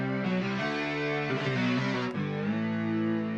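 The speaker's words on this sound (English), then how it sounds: "So I put on this hex distortion." Hex distortion effect on a GeoShred synth app, a sustained, buzzy overdriven lead with shifting pitches and dense harmonics, loud and continuous with no talk over it.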